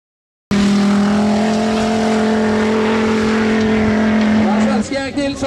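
A turbocharged V8 formula offroad car at the Mysen track in Norway holds a loud, steady, buzzing engine drone that wavers and breaks up near the end as the revs shift.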